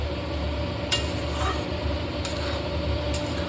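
Raw Bombay duck (lote) fish being mixed and stirred in a pan: a steady, faint hiss with a few soft scrapes or clinks spaced across the stretch, close by and with no talking.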